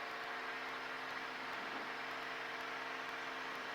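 Steady, droning roar of a light training aircraft's engine at full power during the takeoff roll, loud and unbroken throughout with no voices over it.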